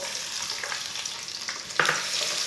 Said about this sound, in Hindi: 1 ब्रीक कटा हुआ प्याज डाल लेंगे।